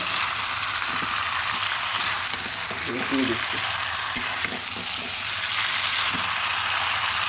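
Papaya chicken curry sizzles and fries steadily in a pan while a utensil stirs it, with occasional scraping and clinks over the constant loud hiss.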